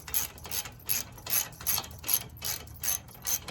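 A ratchet tightens the mounting bolts of an AMS Red Alpha race heat exchanger, clicking in an even, close rhythm of about nine short bursts with no voices.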